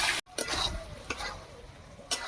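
Vegetables seasoned with salt and sugar stirred in a pan for a Bengali light curry, a few soft scraping and sizzling strokes, close and moderately quiet.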